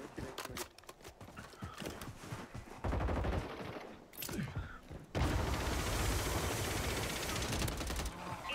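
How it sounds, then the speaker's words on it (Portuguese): Gunfire in the Warzone 3 video game, a rapid burst of shots followed by sustained loud bursts and battle noise, heard close and harsh with no talking. "Um tiro em cima dele."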